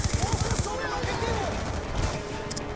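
Gunfire in the Black Ops 2 video game, a quick burst of rapid shots at the start followed by scattered game effects, with someone talking over the top.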